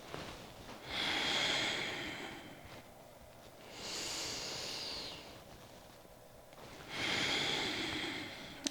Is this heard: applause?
no